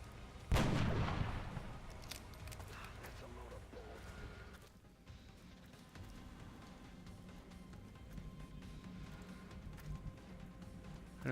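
A single sniper rifle shot in the XCOM: Enemy Unknown strategy game cracks sharply near the start, then fades into a low rumbling game soundscape with a voice talking over it.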